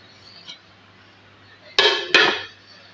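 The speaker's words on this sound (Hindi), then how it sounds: "जितने मेरे बर्तन हैं ना नॉन स्टिक वगैरह के मैं इधर रख देती हूँ उल्टा कर" Non-stick pots and pans are set down upside down on a mat in a home kitchen, producing two sharp, loud metallic clunks close together, each with a short ringing decay, after a faint earlier tap.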